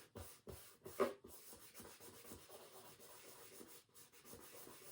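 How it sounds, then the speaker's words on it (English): Gold leaf burnished down through tissue on furniture, faint soft rubbing strokes in short repeated passes, close and quiet with no talk. "I'm just going to now burnish that down."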